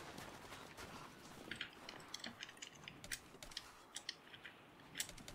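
Computer keyboard keys are clicked in irregular, light bursts during a Rise of the Tomb Raider session, with quiet, close tapping over a soft background hiss.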